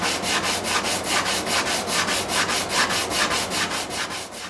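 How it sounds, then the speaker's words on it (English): Rhythmic back-and-forth sanding of a Martin HD-28 guitar fretboard with 100 grit sandpaper during a refret, a steady close scratchy rasp pulsing about four strokes per second with no talk. "I'm starting with 100 grit sandpaper to level this fretboard and get out some dings and dents"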